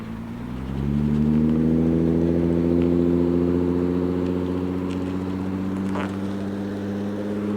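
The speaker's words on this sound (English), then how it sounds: "So this car probably knows I'm about to be turning right here." A car engine hums steadily at night on a road beside a cyclist riding an e-bike. Its tone holds a low, even pitch for several seconds, close and fairly loud, with no speech.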